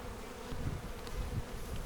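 Honey bees buzz at a beehive in a conservation area, a dense, steady drone close by with low rumbling swells and no talk.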